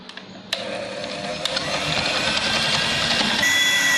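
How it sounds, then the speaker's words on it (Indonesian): An electric hand mixer running on high speed, beating donut dough of flour and water in a bowl, with a steady buzzing motor whine that starts abruptly and continues unbroken, close and fairly loud. "kita akan memixer adonan dengan hand mixer sampai setengah kali saja pada kecepatan tinggi"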